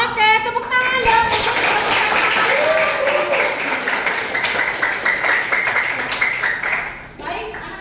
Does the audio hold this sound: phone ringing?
no